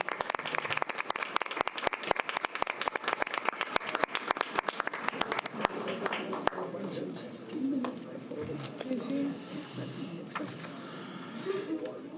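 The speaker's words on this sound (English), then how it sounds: "if we could give them one more round of applause" Attendees at a school board meeting applaud departing honorees with brisk, crisp clapping for about six seconds, which then stops and gives way to quieter room murmur and voices.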